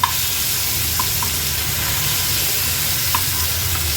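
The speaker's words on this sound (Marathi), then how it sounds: "अगदी दीड ते दोन मिनिटातच अगदी व्यवस्थित आपली मच्छी फ्राय करून झाली आहे" Boi mullet fish frying in oil in a pan, Agri-Koli home style, giving a steady broadband sizzle throughout with a few faint clicks, close and continuous with no talking.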